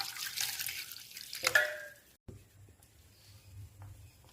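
Water splashes into a pot of peeled sweet potatoes, a close rushing pour that stops abruptly, followed by faint drips and low background hum.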